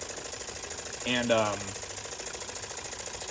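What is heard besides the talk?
small steam engine running, driving a phone charger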